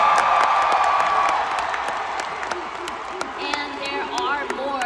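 A concert audience applauds and cheers after a K-pop group member's stage performance, clapping and whoops mixed with a loud crowd, while a voice speaks over the noise.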